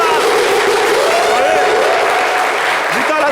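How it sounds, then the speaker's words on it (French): A studio audience applauds the guest, the queen of coupé-décalé, on a French-language talk show. Steady, dense clapping fills the whole stretch, close and loud, with a voice faintly audible underneath. "Elle méritait des applaudissements, s'il vous plaît."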